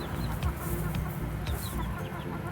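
Grower chickens in a small poultry farm, some of them weakening and dying, cluck steadily over a constant loud farmyard din, with no one talking.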